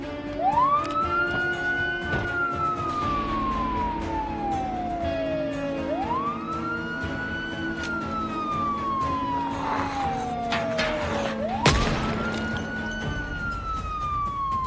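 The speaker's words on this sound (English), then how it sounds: "we don't need the siren the whole time" A video game ambulance siren, Project Zomboid, wails, rising and falling in long, repeating sweeps, loud and steady over a constant background rumble, with a sharp bang near the end.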